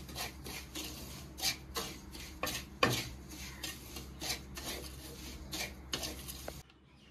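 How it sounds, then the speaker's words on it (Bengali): Dry semolina is roasted and stirred in a hot wok for suji kesari halwa. A spoon scrapes across the pan in steady, repeated strokes, close and moderately loud, with a faint dry rustle between them and no voices. "সুজিটাকে ভালো করে আগে ভেজে নেব।"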